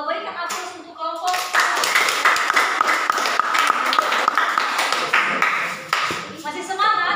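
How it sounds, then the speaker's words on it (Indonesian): A classroom of students claps for a student discussion group, lively applause swelling quickly and holding steady for several seconds before fading, with voices mixed in. "berikan aplaus untuk kelompok"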